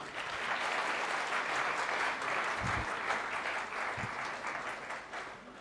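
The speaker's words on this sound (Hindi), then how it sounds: "तो एक बार जोरदार ताली हो जाए उन सभी लोगों के लिए।" An audience at a marketing training session claps heartily on cue, a full, even round of applause sustained at close range and fading slightly toward the end.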